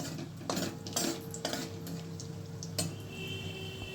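Dried chilli, cardamom, cinnamon and cloves are stirred in a pan as a tempering. A utensil scrapes and clinks faintly in a steady rhythm, about twice a second, over a low background hum.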